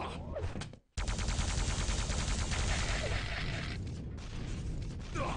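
Rocket fire in a Quake-style duel match, with dense rapid blasts and explosions running almost continuously after a brief gap, loud and close, with a game commentator's voice faintly mixed in.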